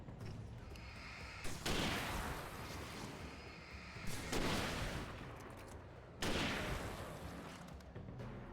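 Three heavy hunting rifle shots from the video game Alan Wake Remastered, spaced a couple of seconds apart, each a loud, near blast with a long rumbling tail fading into the next.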